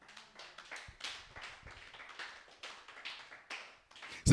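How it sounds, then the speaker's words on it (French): A church congregation claps loudly in praise during a French-language sermon, with a steady patter of many hands rising and falling in waves for about four seconds, no talking. "Est-ce qu'on peut acclamer pour la gloire de Dieu?"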